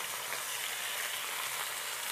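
Spices with turmeric and salt fry for bhog in hot oil, giving an even, close hiss of sizzling without pause or talk.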